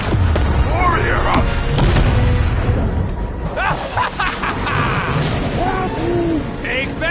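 Ship cannon barrage in the Guardians of the Galaxy video game: a continuous loud stream of booming cannon fire and crashing impacts, with game voices talking over the battle throughout.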